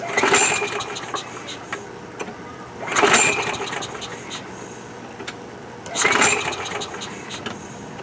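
A Murray Quantum lawn mower engine with a suspected fuel or carburetor problem is pulled three times, each pull a loud close sputtering burst of firing that dies back out, spaced about three seconds apart, with someone talking in between.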